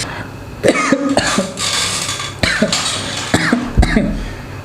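Several harsh coughs burst out one after another at close range, spaced by short pauses, with a faint hum underneath.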